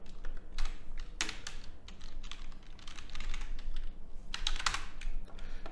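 Close clicking keystrokes on a computer keyboard come in irregular bursts of typing, with short pauses and a few sharper key strikes, and no one speaks.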